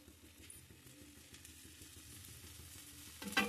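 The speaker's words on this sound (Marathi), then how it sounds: "आणि छान हा कुरकुरीत होईपर्यंत भाजून घेऊया." A jowar dosa fries in oil on an iron tawa, giving a soft, steady sizzle throughout and a sharper, louder crackle near the end.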